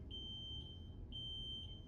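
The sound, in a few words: fire alarm beeping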